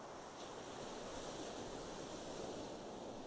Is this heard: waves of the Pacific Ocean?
yes